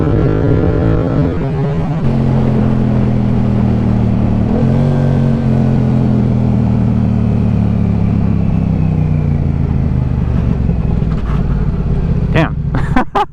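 Yamaha R7 sport motorcycle engine pulls hard under acceleration with a steady rising drone and wind rush, a rider's voice talking over it and a few sharp clicks at the end.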